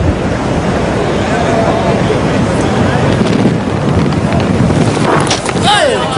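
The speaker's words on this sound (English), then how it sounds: "Real gust of wind" A strong gust of wind roars over the microphone at a cricket ground during a Test match between Pakistan and New Zealand, a loud continuous rush lasting several seconds.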